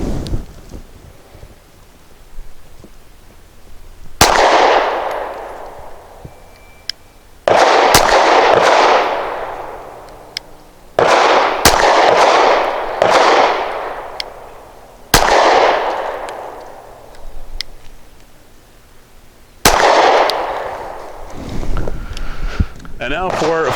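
Five pistol shots from a Smith & Wesson Shield 2.0 fired with Blazer Brass ammunition at about five yards, each a sharp loud crack with a ringing decay, spaced several seconds apart amid wind noise and brief talk.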